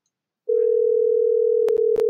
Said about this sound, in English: you will hear um, almost like a phone ringing